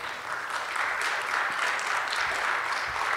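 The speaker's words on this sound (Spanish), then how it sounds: "Les pido a mis compañeros un fuerte aplauso" A crowd applauds steadily in a legislative chamber, a dense wash of many hands clapping at once, sustained at even loudness without voices.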